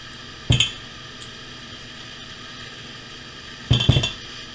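A spoon scrapes and clinks against a cast iron pan while stirring a spoon bread batter of butter, eggs, flour and baking powder, two short bursts of clattering separated by a quiet pause.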